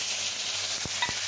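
Turmeric and spices hitting hot oil in a pan, a bright, steady sizzle and hiss up close, with a couple of brief utensil scrapes near the end.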